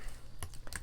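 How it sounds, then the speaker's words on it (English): Keys are tapped on a wireless computer keyboard, a few quick, sharp clicks in an irregular burst, close by and quiet over a faint low background hum. "I use a wireless keyboard on this"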